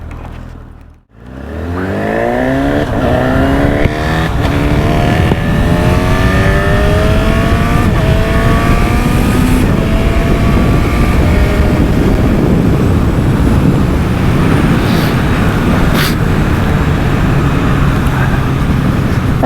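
A 2025 Honda CB1000 SP Hornet naked motorcycle accelerates hard through the gears, its loud engine note rising repeatedly under heavy roaring wind noise, close and continuous.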